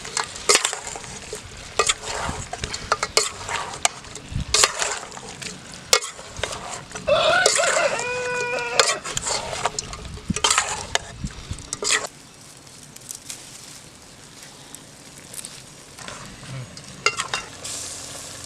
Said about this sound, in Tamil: தக்காளி இப்போ நல்லா கிண்டிக்கலாம்ப்பா.